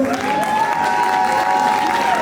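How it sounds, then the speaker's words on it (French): An audience at a cosplay contest claps steadily and fairly loudly for a couple of seconds, the applause continuous and dense, with a voice faintly audible over it. "vous pouvez encore les applaudir"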